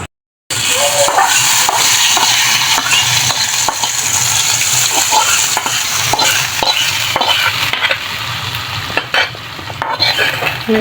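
A hot tempering is poured into a coconut-based meatless fish-style curry, bursting into a loud, continuous sizzle after a moment of silence, with light clinks of a utensil and pan.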